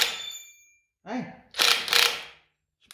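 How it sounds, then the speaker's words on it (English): A metal spanner drops onto a workshop floor while brakes and hubs are fitted to a Willys MB jeep, giving a short ringing metallic clatter followed by a couple of bright bouncing clangs, with a brief voice in between. "spanner fell on the floor"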